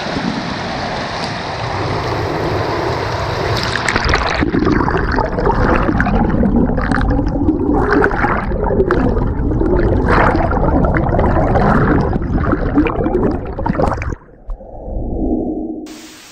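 A GoPro camera plunged into clear river water at a Kasol campsite: steady rushing, bubbling water noise for about fourteen seconds, then an abrupt drop to a muffled, low underwater rumble.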